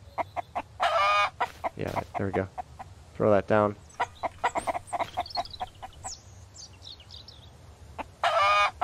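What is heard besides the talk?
chickens clucking while eating, from video game Mist Survival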